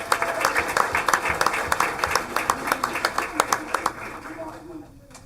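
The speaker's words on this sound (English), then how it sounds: "One last applause, please, for our kids." Applause for students at a school board meeting, a steady round of clapping from a modest crowd in a room that fades out over several seconds.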